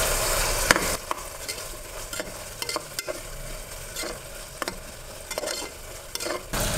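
Medium tomato sautéing in a pan for kodo millet kichadi, a soft sizzle broken by repeated scraping stirs of a spoon against the pan, close and without talk.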